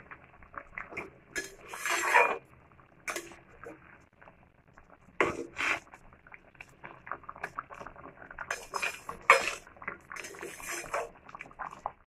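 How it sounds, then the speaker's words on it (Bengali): A utensil stirs katla fish curry with ash gourd in a pan, producing irregular metallic clinks and scrapes over a faint bubbling simmer, some bursts louder and closer than others. "এবারে একবার নেড়ে দেব।"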